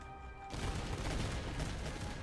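Musket volley in the Master of Command game, a broad burst of crackling fire starting abruptly after a brief quiet lull and rolling on steadily and loud, dense overlapping shots with no voices.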